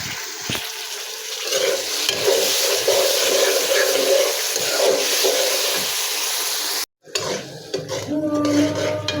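Green chilies, tomato and garlic cubes are stirred into frying peas in a pot, giving a continuous loud sizzle with repeated scraping stir strokes, a brief break near the end, then more clatter.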